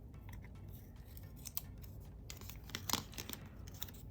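Scissors snip through a planner sticker in a few quick, close cuts, with light paper rustling and crinkling around them.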